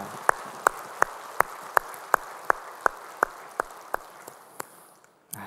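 Congregation at a Sunday church service claps in unison, a slow, regular beat of crisp single claps that fades slightly toward the end, fairly quiet and without talk.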